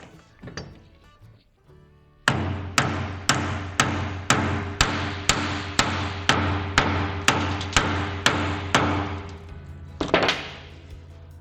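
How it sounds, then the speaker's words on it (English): A hammer strikes metal on a Kubota RTV 500 CV axle in a steady series of about sixteen loud, ringing blows, evenly spaced and close, each leaving a brief metallic sustain. "Let me try this hammer."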